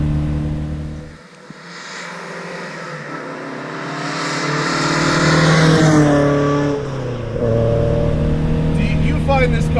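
A 1974 Alfa Romeo GTV 2000 engine rises and revs steadily while driving, a continuous close drone climbing in pitch, with people talking over it for much of the time.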